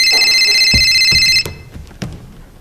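A loud telephone bell rings in a steady trill, then cuts off abruptly, leaving a few soft knocks and handling sounds.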